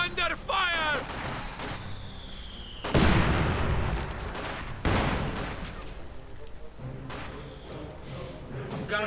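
Gunfire and explosions in a 1v1 strategy war game match, with bursts of machine-gun fire and heavy booms over a dense battle din, while a voice calls out briefly.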